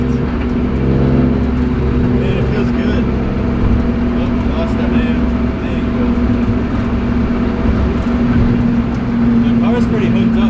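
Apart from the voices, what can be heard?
BMW E36 car drifting, engine revving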